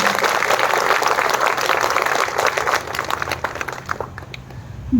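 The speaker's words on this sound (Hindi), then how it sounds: "जोरदार तालियां अपने फौजी भाई को दें।" Crowd applause for a soldier at a patriotic event, loud dense clapping that gradually thins out toward the end.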